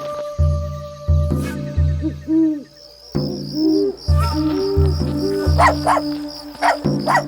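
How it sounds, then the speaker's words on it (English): A dog barks repeatedly in short, loud bursts with brief gaps, fairly close, with a few higher yelps and squeaks mixed in. "Why are you barking so? Stay quiet."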